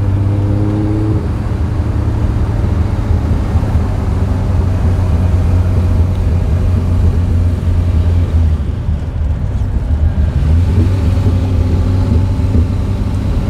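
A 1968 Ferrari 365 GT 2+2 with a V12 engine idles steadily and close by, a deep continuous drone that swells slightly near the end with no talking over it.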